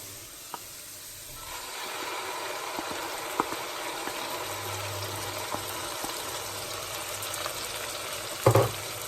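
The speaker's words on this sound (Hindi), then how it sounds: "अब इस प्याज को अदरक लहसुन के साथ अच्छी तरह से भुनेंगे कि ये ब्राउन हो जाए" Onion paste browning with ginger and garlic for a dhaba-style chana dal tarka sizzles with a continuous, loud hiss and occasional small pops, ending in a brief clatter.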